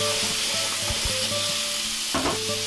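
Butternut squash sizzles in a hot pan while being stirred, a close, loud frying hiss broken by a few spatula scrapes and clacks, with no one talking.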